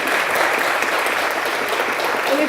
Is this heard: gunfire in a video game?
no